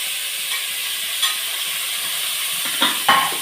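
Green chilies, curry leaves and onion frying in a pan for Kerala-style chicken liver roast, a steady close sizzle broken by a few stirring scrapes and clinks, louder toward the end.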